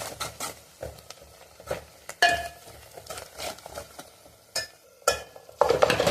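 Garam masala and mixed masala stirred into a frying Telangana-style chicken curry base, with irregular scrapes and clinks of a spoon in the pan over a low sizzle, close up and without speech.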